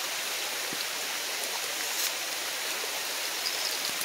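Rain falls steadily outdoors, making a dense, even hiss with no pauses. A few faint taps sound now and then.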